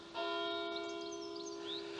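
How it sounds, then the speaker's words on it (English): A church bell in a Brixham churchyard in Devon tolls the hour, one struck tone ringing out strongly and sustaining with a long shimmering decay, with faint birdsong above it outdoors. "You can hear the church bell tolling the hour."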